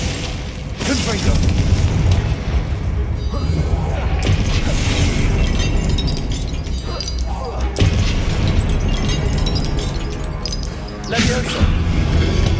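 Explosive Confringo spell blasts in the Hogwarts Legacy video game, heavy booming bursts and shattering crashes amid constant loud combat noise, with spoken spell incantations over the action.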